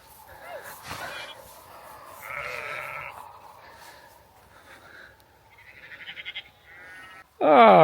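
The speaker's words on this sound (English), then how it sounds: "Look at these lovely wee lambs." Lambs bleat in a Scottish springtime field, with several faint calls scattered under a person talking and a sudden loud, close bleat right at the end.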